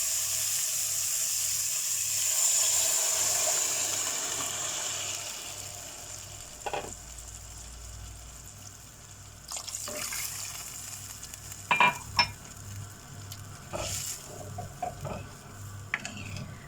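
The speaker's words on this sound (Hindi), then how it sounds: "पानी ऐड कर देंगे।" Water is poured into a pan of browned potatoes with green coriander, mint and fresh chili while cooking kofta pulao; a steady sizzle runs under repeated sharp splashing bursts near the end.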